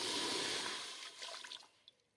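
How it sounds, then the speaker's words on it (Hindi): Water pours into a pressure cooker set on a stove, a broad splashing rush that tapers off after about a second into a few faint trickles and drips. "इसमें डालेंगे 1 गिलास पानी।"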